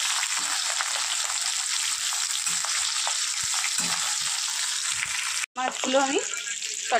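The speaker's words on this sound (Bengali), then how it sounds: "মাছের মাথাগুলো হালকা করে নিয়ে ভেজে নেবো" Hilsa fish heads fry lightly in hot oil, giving a steady, close, broadband sizzle that holds evenly, then breaks off briefly near the end before stirring sounds and light crackle return.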